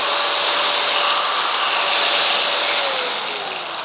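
A Stanley SG5100 angle grinder, 580 watts, spins freely at about 12,000 RPM with a loud, steady high whine, held close and alone, easing slightly toward the end.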